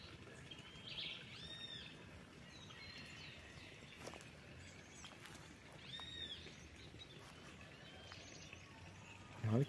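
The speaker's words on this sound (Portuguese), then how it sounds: "Só os pássaros." Birds chirp and sing in the open air at a rural country property beside a pond, with scattered calls rising over a quiet, steady outdoor background, fairly distant, with no talking.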